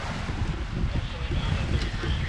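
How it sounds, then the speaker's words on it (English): Wind and broad, bouncy waves wash around the sailing boat Tally Ho on a broad reach, a steady close rush of broadband noise with a heavy low rumble and no clear breaks. "So a little bit bouncier waves."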